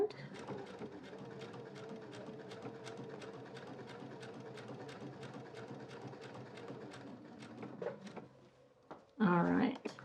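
A sewing machine runs a steady, close, rhythmic top stitch through faux leather and the lining of a child's crossbody bag. The stitching stops near the end, leaving a brief louder handling noise and a short burst of speech.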